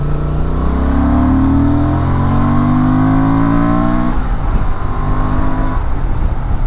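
A 2024 Honda Transalp 750 motorcycle engine revs hard and steadily, pitch climbing then dropping, loud and close, with a constant throaty drone throughout.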